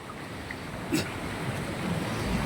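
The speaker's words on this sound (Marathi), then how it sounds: "ते ड्रेनेज नुसता महापूर आलेली आहे" Floodwater from overflowing drains rushes down a road at More Vasti, Anganwadi Road, Pune, during torrential rain, a steady close roaring wash with a brief louder surge partway through.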